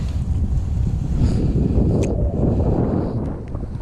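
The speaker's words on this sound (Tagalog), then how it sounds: "Hangin." Strong wind buffets and roars across the microphone in continuous gusts, with faint water sounds beneath; no talking.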